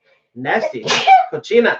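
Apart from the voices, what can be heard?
sneeze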